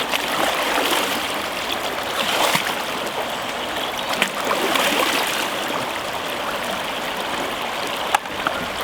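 Rinsing a river-fly sampling bucket in a river, a steady close wash of flowing, splashing water with small bumps and sloshes throughout, no voices.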